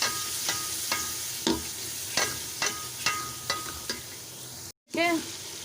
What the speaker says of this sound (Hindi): अब जो ये मेरे पास स्पाइसेस हैं, इसको हम इसमें डाल देंगे और अच्छी तरह से भून लेंगे।